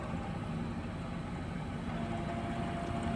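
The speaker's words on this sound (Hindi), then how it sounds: "लेफ्ट साइड अभी रैपिड ट्रैवल चल रहा है." Table of a Berico FV-2 vertical turret milling machine, Italian-made with a 1290 mm by 330 mm table, on rapid travel to the left: a steady, even motor drone with low hum, continuous and unbroken, with no talking.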